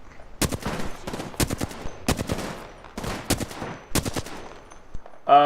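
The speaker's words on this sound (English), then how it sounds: "I've got 20 shots in my flat line, and then everything else is a full auto shotgun" Bursts of full-auto Flatline rifle and shotgun fire in Apex Legends, rapid clustered shots in several separate volleys, loud and close.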